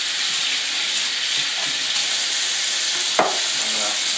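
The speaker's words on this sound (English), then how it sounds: "I'm gonna rinse this out." Water runs steadily while a 64-ounce commercial coffee decanter is rinsed out, a constant loud hissing splash with one brief knock of glass near the end.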